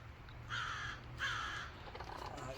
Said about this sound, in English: There's a crow above.